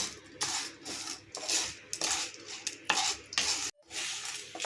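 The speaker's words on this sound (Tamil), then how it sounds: "ஒரு சின்ன சைஸ் புளி சேர்க்குறேன். சேர்த்துட்டு இதை நல்லா வறுத்து எடுத்துக்கலாம்." Lentils and tamarind dry-roasting in a pan for drumstick-leaf chutney, with repeated scraping and stirring strokes of a utensil against the metal pan and a soft background sizzle, close and fairly loud, with no talk.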